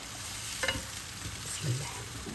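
Hot water poured into a heated tajine crackles and sizzles in a soft, steady hiss with a few brief bubbling spurts, close and alone without talk.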